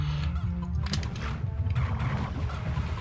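Game fowl clucking and squawking in the video game Doom, over a dense, noisy background mix, with a brief sharp burst partway through; busy and continuous.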